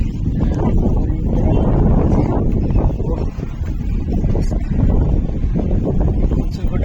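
Strong gusting wind from a Kalbaisakhi storm in Bhubaneswar, a loud continuous roar with heavy buffeting on the microphone and no clear speech.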